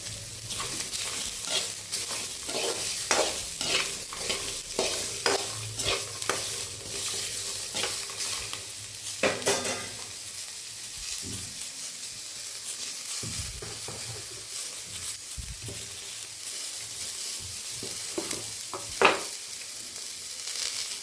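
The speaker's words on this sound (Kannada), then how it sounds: "ಸಿಮ್ ಮಾಡಿಕೊಂಡೆ ಹುರ್ಕೋಬೇಕು, ಜಾಸ್ತಿ ಉರಿ ಇಡಬಾರ್ದು." Tomato for chutney frying on a low flame with steady stirring: a continuous soft sizzle runs throughout, broken by repeated scraping and clacking strokes of a spoon against the pan.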